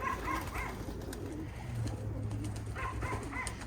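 Pigeons cooing after being let out of their loft, with soft repeated coos through steady outdoor background noise and a few sharper chirps near the start and end.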